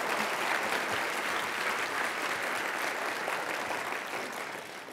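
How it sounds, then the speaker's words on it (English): A crowd at the Alabama Humanities Alliance colloquium applauds honorees, with sustained, even clapping that fades slightly toward the end and no speech over it. "Remarkable lives who deserve remarkable honors. Give them another round of applause,"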